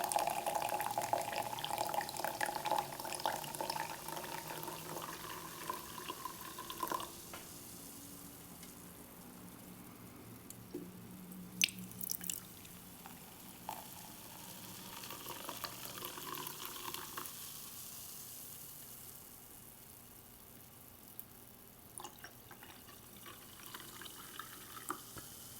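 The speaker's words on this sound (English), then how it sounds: "let's open up this soda, and we're going to pour it in to each of these cups" Seltzer soda poured into several cups for a close-up ASMR session: a steady, close, soft crackling fizz with a trickling pour early on and small clinks and drips, quiet throughout with no talking.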